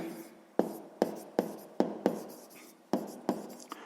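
A pen scratches across paper while sums are written out, with about ten quick strokes, each a sharp onset fading into a brief scrape, close and alone.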